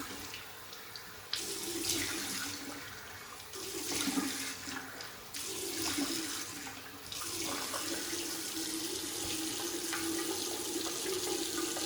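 Water runs steadily from a tap into a sink while the face is rinsed after a straight-razor shave, a continuous near splashing rush with brief interruptions and bursts as hands cup and splash.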